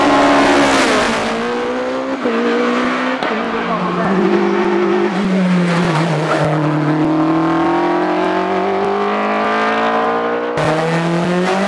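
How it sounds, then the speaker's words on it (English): Formula 3 race car with a Cosworth BDG engine on a hillclimb run at Shelsley Walsh, its engine loud and close, rising and falling in pitch through repeated gear changes and hard acceleration for the whole stretch. "John runs a Cosworth BDG unit in the car, and his first run is good enough for third in class."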